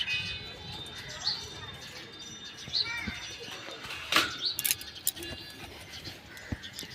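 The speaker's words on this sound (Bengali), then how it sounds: "আর আমাদের এই এক জোড়া পাখি আছে এই পাখি জোড়া ডিম দিবে" A pair of pet birds at home give a few short, scattered chirping calls, faint to moderate over background noise, while a person talks nearby.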